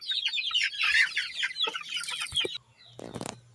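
Native chicken chicks in a brooder chirp in a dense, high-pitched chorus, close and continuous, followed by a brief low cluck from an adult hen; nobody talks.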